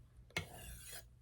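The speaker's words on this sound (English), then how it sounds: "I'm onto the Arkansas stone" A knife blade drawn across an Arkansas sharpening stone at roughly 17 degrees, giving one close, steady rasping stroke of about half a second with a sharp onset.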